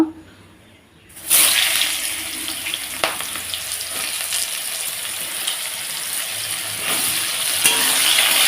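Ridge gourd hits hot oil seasoned with bay leaf and whole cumin, and after a brief quiet start a loud, bright sizzle bursts up and holds steady, with occasional stirring clicks and clatter.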